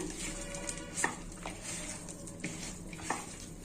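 Chicken being mixed by hand with pepper, ginger-garlic paste and salt, giving soft wet squelching and stirring sounds with a few light clinks against the bowl, close and quiet, with no talk.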